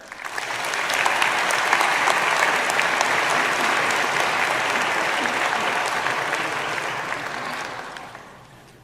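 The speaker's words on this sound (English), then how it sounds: "please give Dr. Fanton a round of applause" A large audience at a university graduation ceremony claps steadily for several seconds, dense and sustained, then the applause begins to fade toward the end.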